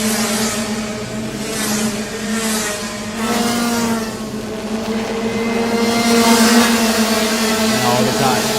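Racing karts from a Senior Max and Senior Rookie final in Thailand run around the track together, a steady droning engine whine with rising and falling passes, loud and continuous with no talk.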